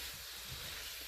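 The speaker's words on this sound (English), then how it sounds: "So I'm just frying it in the oil real quick with one hand." Sazon seasoning fries in hot oil in a pan with garlic, a faint, steady, broadband sizzle and hiss that runs evenly throughout with no voices.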